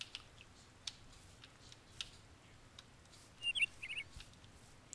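Faint bird chirps in the Twilight Forest mod of Minecraft, a few soft tweets scattered through a quiet scene with a brief cluster of brighter calls near the end, alongside light ticking sounds.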